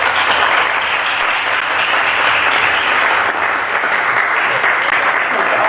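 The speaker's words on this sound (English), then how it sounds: "I think we should give Mr. Walters a round of applause" A crowd applauding steadily and loudly throughout, dense continuous clapping with no pauses.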